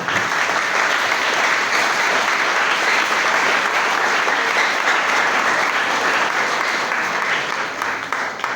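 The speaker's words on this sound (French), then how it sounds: "Et nous allons applaudir très fort les enfants." An audience claps loudly for children at a celebration for an international rights day, a dense, continuous round of applause lasting several seconds and easing slightly near the end.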